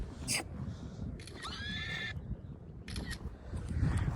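A Kathiawari mare gives a clear, shrill whinny outdoors, moderately close, over background rustle and a few faint knocks, with no talk.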